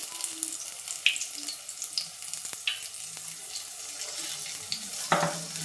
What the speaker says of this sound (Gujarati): એવી રીતે એક એક કરીને આપણે બધાય તળી લેશું.